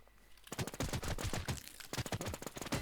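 Gunfire in the online shooter game Warz comes as rapid automatic bursts, dense loud volleys with brief gaps between them, close and dominant.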